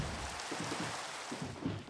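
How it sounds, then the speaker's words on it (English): Rain falls in the Minecraft video game as a soft, steady hiss, faint and continuous with no voices. "Oh, and here it's raining. That's great."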